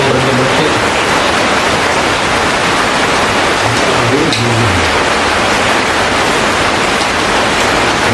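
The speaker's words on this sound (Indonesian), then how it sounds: "Lagi hujan tuh dari tadi belum berhenti" Steady heavy rain pours down continuously, a dense broadband hiss filling the whole stretch, close and loud with no voices.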